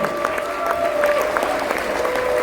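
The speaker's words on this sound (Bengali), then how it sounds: "আপনারা হাততালি শুনে ওপর থেকে সব চলে আসবেন" An audience at a celebration event breaks into dense, continuous clapping, steady and fairly loud throughout, with a sustained voice-like tone running beneath it.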